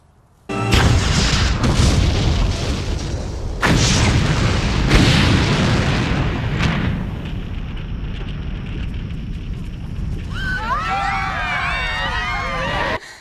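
A loud, booming movie factory explosion sound effect erupts with crackling blasts and rumbling debris, followed by a sustained roar with squealing, whistling tones near the end.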